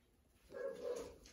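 A single soft, whimpering bark or yip from a six-week-old puppy, faint and brief against a quiet background.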